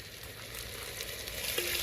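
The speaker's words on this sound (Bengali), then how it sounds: "এবার পেঁয়াজগুলোকে তেলের মধ্যে দিয়ে দেবো। এটা হালকা লাল লাল করে ভাজবো।" Onions and ginger-garlic paste fry in oil with a steady, moderately loud sizzle and crackle, unbroken and close, with a faint stir near the end.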